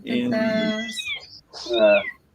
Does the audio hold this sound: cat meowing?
yes